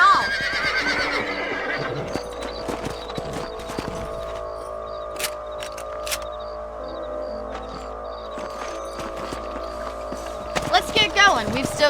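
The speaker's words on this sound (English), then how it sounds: "Let's get back on the horses and see what else is going on." Horses whinny and neigh in the video game Red Dead Redemption, with scattered hoof clops and clicks in between and a louder burst of neighing near the end. Voices talk over parts of it.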